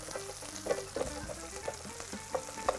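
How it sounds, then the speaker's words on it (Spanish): Mushrooms browning in a frying pan for pasta with peanuts, a steady close sizzle with small crackling pops and a few louder spits, no talking. "Ya en este punto ya están empezando a dorar."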